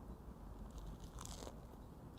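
A quiet crisp crunch comes from biting into an air-fried red bean taiyaki, a fish-shaped bungeoppang pastry, with one close bite over soft background hiss.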